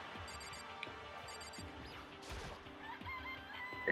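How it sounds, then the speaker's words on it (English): A chicken in the video game Danganronpa clucks and crows, a game rooster call with repeated clucks over soft background game noise and no talking. "It's a chicken."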